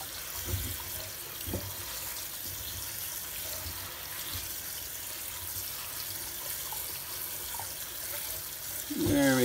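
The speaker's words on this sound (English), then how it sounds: "Get some cold water in there, because you don't want it to continue to cook." Cold tap water runs steadily from a kitchen faucet over cooked pasta in a colander, a constant splashing hiss with a few soft clunks and a louder clatter at the end.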